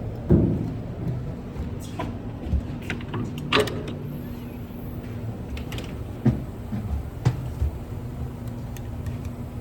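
Kama die cut machine running, a low steady mechanical hum with scattered clicks, clunks and sharp knocks from the mechanism at irregular intervals, close by.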